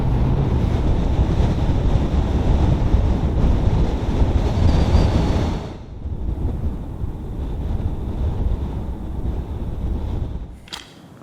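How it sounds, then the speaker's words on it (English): Stiff, breezy wind buffets the microphone on the beach at Brean in Somerset, a loud continuous roar with surf-like rushing that drops away sharply midway, then continues more softly before fading; no one speaks. "we are left with a very stiff and breezy day"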